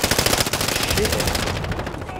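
Rapid automatic gunfire in the Call of Duty video game, a dense sustained burst of shots that fades slightly toward the end, with game audio layered beneath.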